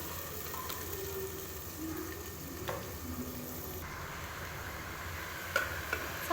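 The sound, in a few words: cauliflower added and stirred into frying masala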